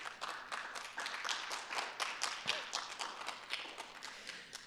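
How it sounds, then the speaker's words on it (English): Audience applause for a holiday giving team at a city State of the City event, with many hands clapping in a dense, steady burst that holds at even loudness throughout. "Can we give our holiday giving team a great round of applause?"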